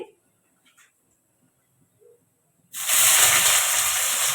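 Onion hits hot oil with cardamom for oats pulao, and after a near-silent lull it erupts into a loud, sustained hiss of frying that stays close and strong.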